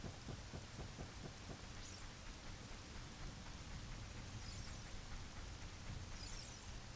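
Steady rain pours in The Legend of Zelda: Ocarina of Time, with low rumbling thunder beneath and a few sharp low thumps early on, constant and fairly faint throughout.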